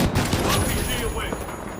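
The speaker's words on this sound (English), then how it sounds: "RPG away." Weapons fire and an explosive rocket launch from an RPG in the video game The Finals, a short burst of booming blasts under a clamor of battle noise.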